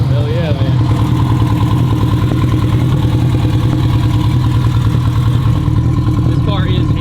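A 1050 hp all-wheel-drive Honda Civic EG hatchback with a stage 2 cam idles loudly up close, a steady low rumbling drone with a slightly choppy lope, while voices talk over it.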